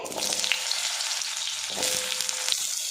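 Papaya and potato pieces fry in mustard oil with a panch phoron tempering, producing a close, steady crackling sizzle with light stirring.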